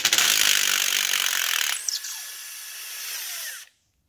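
Impact wrench spinning out a glow plug on a Mercedes E320 CDI diesel, a loud continuous rattling whir that drops in pitch partway through and runs on before stopping abruptly.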